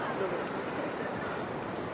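Sea waves at Harihareshwar beach wash over rocks as a steady broadband rush mixed with wind noise, while someone talks over them close to the microphone.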